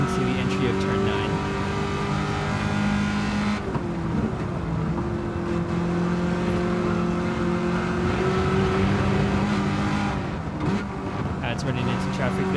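Race car engine from a racing game at Watkins Glen, a sustained loud drone whose pitch drops as the throttle eases into a long right-hand turn, then steadies; a commentator talks over it.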